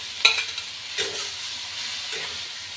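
Fried eggplant is tipped into a pan of cooking mustard greens and stirred, with a few scraping and clattering strokes over a steady soft sizzle nearby.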